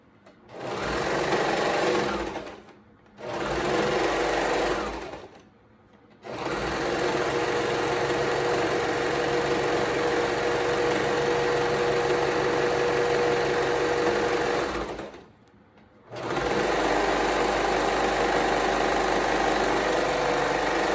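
A sewing machine runs in long steady bursts, stitching legging pants over the crotch seam a second time, with brief pauses between runs; the motor hum is close and loud, with no talk.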